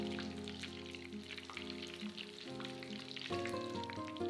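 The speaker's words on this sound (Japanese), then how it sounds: "パン粉に色がついたら裏返して、片面3分を目安に揚げてください。" Breaded menchi katsu deep-fries in hot oil with a dense, steady crackle and bubbling that holds at moderate loudness throughout, alone with no voices.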